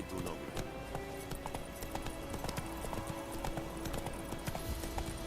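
Roach the horse galloping in The Witcher 3, hooves clip-clopping in a quick, steady rhythm close by, with a soft background ambience under the hoofbeats.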